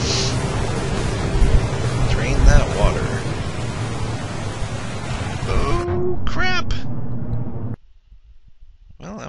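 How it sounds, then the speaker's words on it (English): Water draining in a sewer level of the video game Vampire Bloodlines, a broad rushing wash that suddenly drops away, with game effects and brief voices around it. "Drain that water."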